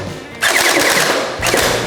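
Toy gun firing in two quick bursts, each a loud rapid rattle of shots, the second burst shorter, with no speech.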